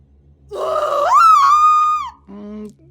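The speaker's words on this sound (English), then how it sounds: "Unfortunately, her scream hadn't aged well." A female character's aged, strained scream from the video game What Remains of Edith Finch rises and wavers for over a second, then breaks off into a short, low grunt.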